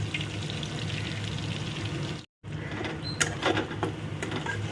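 Onions fry in a pan with a steady, close crackling sizzle, broken by a brief dropout, then sharper pops and spits.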